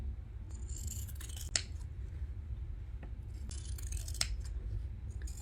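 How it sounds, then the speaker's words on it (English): Pinking shears snipping the edges of a paper Christmas cone, a few crisp close cuts in short bursts separated by quiet handling. "We're just going to cut this to give some nice edges to our little cone."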